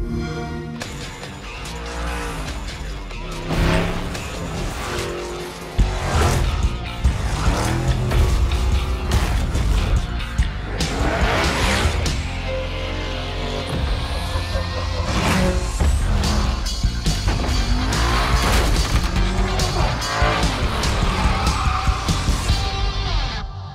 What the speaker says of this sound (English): Those Barrett-Jackson cars are custom made for Forza Horizon 4.